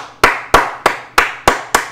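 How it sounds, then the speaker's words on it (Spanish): Six crisp, evenly spaced hand claps ring out close and alone, each with a short decaying tail. "un aplauso para todos ustedes"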